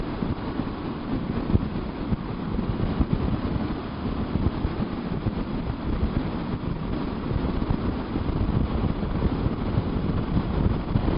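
Strong wind buffets the microphone with a constant low roar and rumble, steady and loud for the whole stretch, with no other clear sounds.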